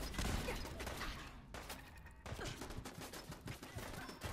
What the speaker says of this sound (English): You'd think from the grenades I just sent their way they would be dead.